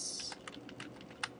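Rapid clicking of computer keyboard typing, close and distinct, with an uneven rhythm of keystrokes and one sharper tap near the end.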